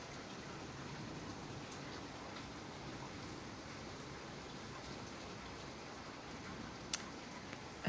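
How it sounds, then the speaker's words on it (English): Hail pelts a car in a dense, steady patter, a continuous low roar of many small impacts with a few sharper hits near the end. "Just wanted to share the hailstorm with y'all."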